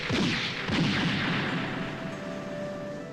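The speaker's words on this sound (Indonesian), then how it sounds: "Sambil tembakan 3 peluru bersarang di tubuh Ting" A loud booming gunshot burst in a Hong Kong gangster film, heavy rumbling echo, a couple of blasts overlapping and decaying over a few seconds.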